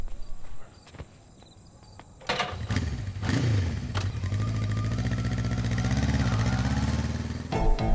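A motorcycle engine revs and roars up close on a street while an auto rickshaw gives chase, the engine note rising and holding steady, loud and continuous, with a few sharp knocks at the start.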